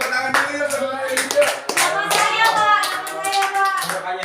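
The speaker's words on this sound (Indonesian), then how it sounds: "Tepuk tangan dulu ya Mbak Aini." Classroom of students clapping for a classmate, with scattered sharp hand claps mixed with overlapping voices talking and calling out at close range.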